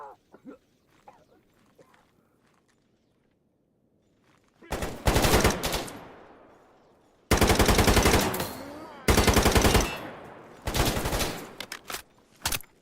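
Gunfire from a gun in the video game GAMMA: loud, close bursts of rapid automatic shots in three or four long strings, following a few quiet seconds of low ambient rumble.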